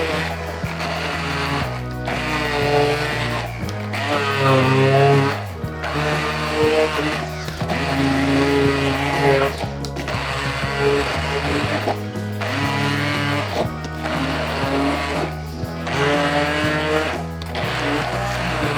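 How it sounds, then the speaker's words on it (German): A blender purées wild garlic pesto with roasted hazelnuts and oil. The motor drones loudly and continuously, its pitch rising and falling in repeated pulses as it is switched on and off, with brief gaps between bursts. "Und dann können wir schon anfangen zu mixen."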